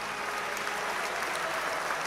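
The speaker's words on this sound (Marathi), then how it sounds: "जोरदार टाळ्या एकदा कबीरसाठी." Audience applause at a stage performance in Akola, a dense, steady clapping that fills the hall and holds at an even level throughout, with no voices over it.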